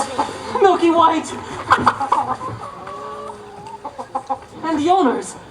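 A hen clucks in rapid, chortling bursts on a theatre stage during a musical, mixed with excited voices calling out, the clucks close and fairly loud.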